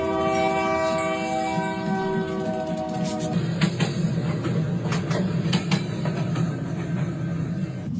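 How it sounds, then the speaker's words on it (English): A train rolls over coins laid on the tracks, a loud horn blast giving way to heavy rumbling wheels with sharp clicks and clacks as the cars pass close by. "Here comes the train."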